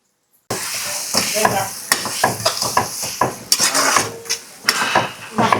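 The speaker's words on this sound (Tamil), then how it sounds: "மாங்காய் சாதம் பண்ண ரெடி பண்ணதை இப்போ கிண்ட போகிறோம்" A spoon stirs mango rice in a pan, giving a run of close, uneven scrapes and clinks against the metal, each stroke breaking off before the next, with no talking.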